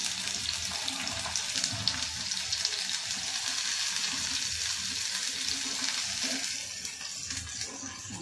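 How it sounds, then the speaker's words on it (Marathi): Onions frying in oil in a pan for spicy masala pav, heard as a loud, dense and continuous sizzle with a hissing crackle close up, easing slightly near the end. "कांदा चांगला परतून घेऊया."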